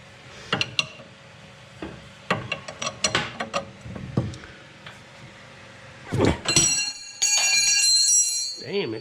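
A wrench works loose the front lower control arm bolts on a 2000 Mercedes E320, giving a series of sharp metallic clicks and ratcheting snaps, then a louder sustained grinding, metallic burst near the end.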